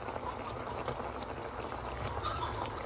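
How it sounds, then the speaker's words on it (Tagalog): Coconut milk for ginataang tilapia boils in a pan, giving a dense, steady bubbling and fizzing close up, with no pauses. "Dahil kumukulo na ang ating gata"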